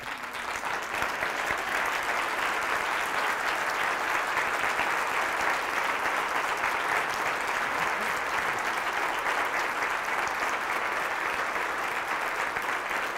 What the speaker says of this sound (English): Would you join me? Just stand and applaud